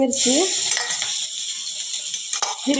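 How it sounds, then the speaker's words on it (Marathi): Curry leaves hit hot oil already crackling with cumin and mustard seeds, giving a steady close hiss and sizzle with light spattering pops and a brief metallic clink of a pan or spoon. "जिरे मोहरी टाकल्यानंतर कढीपत्ता टाकून घेऊया"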